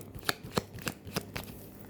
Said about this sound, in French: Je fais le tirage avec vous les amis.